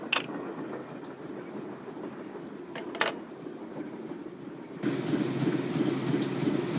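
A train rolls along its tracks in the Nancy Drew game, a steady rumble with clickety-clack rhythm, a couple of brief sharp clanks partway through, and the noise growing louder near the end.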